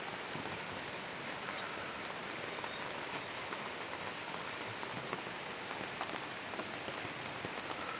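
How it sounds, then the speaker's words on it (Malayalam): Heavy rain pours down continuously, a dense, even hiss of drops hitting surfaces close by with no pauses and no voices. "പക്ഷേ നല്ല മഴയാണ്"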